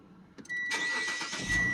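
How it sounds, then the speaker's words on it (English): A nearby car's engine catches and runs in a parking lot, with a brief mechanical whine leading into a steady mid-pitched idle that swells slightly toward the end. "This car wants to park where I'm parking."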